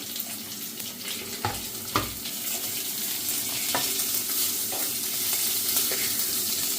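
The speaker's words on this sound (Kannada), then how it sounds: "ಈ ಶುಂಠಿ ಬೆಳ್ಳುಳ್ಳಿ ಹಾಕಿರ್ತೀವಲ್ವ ಅದು ಚೆನ್ನಾಗಿ ಫ್ರೈ ಆಗಬೇಕು" Ginger, garlic, onion and green chilli fry in hot oil for a Kerala-style fish dish, a steady close sizzle with intermittent spoon stirs and scrapes against the pan, without speech.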